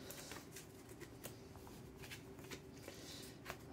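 Soft papery riffling and flicking as a Magic: The Gathering Commander deck is shuffled, quiet and close, in a few quick bursts.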